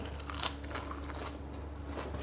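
Crispy Thai pork rinds crunch in short crackly bites while eating, close and fairly loud over a steady background hum.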